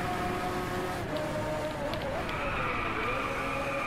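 Rival car engine heard while racing in DriveClub, a steady mid-level whine that shifts pitch as the cars close up, over a continuous roar of road and wind noise.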